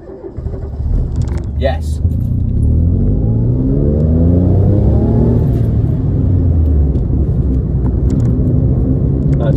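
A car with a failed clutch pulls away in first gear, its engine rumbling loudly and revving up in a rising whine as it accelerates close to the microphone, with a brief spoken word at the start.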